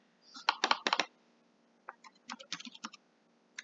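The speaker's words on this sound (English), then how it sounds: "we're going to type in" Close, crisp keystrokes on a computer keyboard come in two quick bursts of typing with a short pause between them and a final tap at the end.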